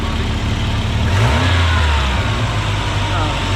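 A Volvo car engine runs steadily with a low, rumbling exhaust note and a slight rise in revs, close and loud, with people talking over it.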